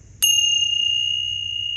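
Single bright metallic chime strikes once and rings out with a long, clear sustain over quiet low background hum.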